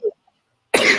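One sharp, close cough bursting out loudly after a short faint throat sound and a moment of silence.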